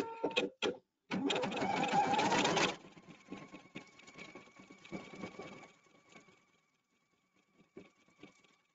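An embroidery machine stitches out a cutwork design, with a loud dense run of rapid mechanical stitching after a few short clicks, then a quieter, sparser patter of stitching that fades toward the end.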